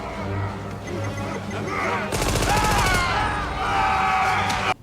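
A rapid burst of automatic gunfire crackles loudly for about a second in a Stargate SG-1 episode, "The Broca Divide", followed by sharp, clattering impacts amid scattered shouting voices.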